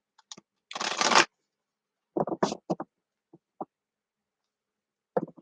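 A deck of playing cards is shuffled: one loud riffling burst, then several short, crisp flicks and taps of cards in quick separate clusters, close up with silence between them.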